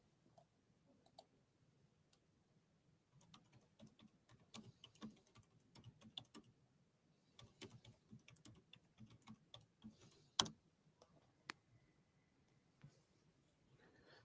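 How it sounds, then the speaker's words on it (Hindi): Typing on a computer keyboard during an online banking class: faint, close key clicks in irregular bursts with brief pauses and one sharper keystroke partway through, no voices. "मैं एक बार टाइप कर देता हूं"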